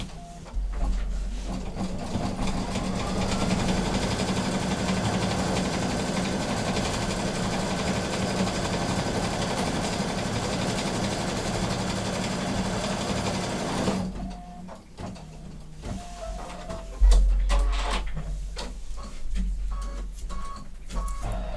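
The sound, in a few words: embroidery machine stitching a placement line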